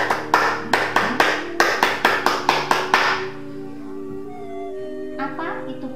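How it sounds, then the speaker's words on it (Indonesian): Scout-style rhythmic clapping (tepuk pramuka) by a group at an elementary school: a quick patterned run of about a dozen sharp claps, then a pause and a brief final burst, with a faint voice lingering between. "mari untuk penyemangat tepuk pramuka"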